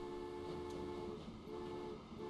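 Trains running along a rail line in the video game Transport Fever 2, a steady rumbling rail roar with sustained horn-like tones throughout.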